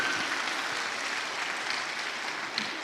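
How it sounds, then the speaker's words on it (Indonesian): Sustained applause from a crowd, dense, steady clapping that fills the whole stretch without pause. "tepuk tangan untuk beliau."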